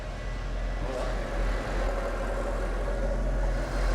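A Mercedes-Benz car engine idles steadily and close by for a few seconds, a continuous low hum with a faint rise in revs partway through.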